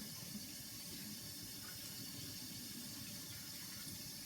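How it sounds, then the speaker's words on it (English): Tap water runs steadily into a kitchen sink as hands are washed clean of sticky dough, a continuous close splashing hiss with no talk over it. "go wash your hands"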